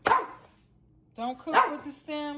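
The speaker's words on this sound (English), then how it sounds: "That's my dog barking." A dog barks a couple of times nearby, loud and sharp, while a person speaks over it.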